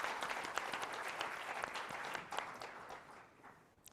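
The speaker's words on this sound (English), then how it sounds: "Please welcome me and the moderator in a round of applause" Conference audience at a hemispheric security event gives a steady round of applause welcoming a panel moderator, dense even clapping that fades gradually toward the end.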